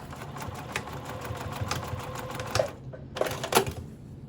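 A sewing machine top-stitches along the edge of zipper tape on a pouch in a steady mechanical whir with rapid stitching clatter, then stops and gives a few short bursts, close and moderately quiet.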